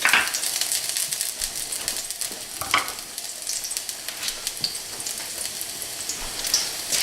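Garlic frying in salad oil makes a steady, loud sizzle with crackling pops throughout, with no voices over it.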